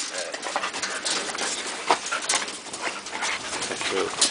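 Thin dogs on a farm whimper and yelp softly in short, scattered cries, with people talking over them and some bird sounds mixed in.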